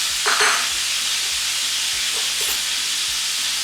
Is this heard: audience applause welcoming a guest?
no